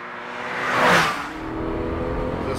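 A Porsche 911 powering out of a hairpin bend, the engine note swelling to a brief peak as it accelerates past, then settling into a steady drone with no voices.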